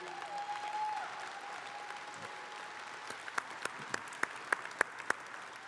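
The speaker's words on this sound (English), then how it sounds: "Please give her a round of applause also," Convention audience applauding a newly elected union secretary-treasurer, a soft, distant wash of clapping at first, joined later by several louder, sharper individual claps close by in a loose rhythm near the end.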